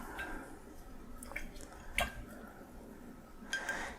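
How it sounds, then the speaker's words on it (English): A paintbrush is rinsed in a water cup during an acrylic painting session, giving a few soft splashes, drips and light taps against the container, close and quiet with no talk. "We'll give my brush a rinse."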